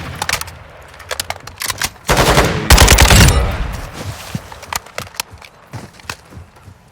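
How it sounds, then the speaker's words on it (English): Rifle in a video game firing a full 20-round burst without recoil control, rapid automatic gunfire in bursts, loudest in the middle, then tapering into scattered shots, with no talk. "this is me just shooting all 20 rounds without controlling the recoil"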